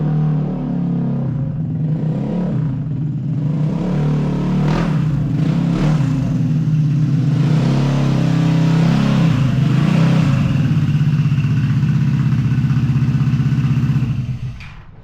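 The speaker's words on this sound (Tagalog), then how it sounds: "narinig niya na dumating tayo sa sobrang ingay na itong motor na to" A loud motorcycle engine runs steadily close by, rumbling and revving with deep low-end throb throughout before cutting off near the end; no talking over it.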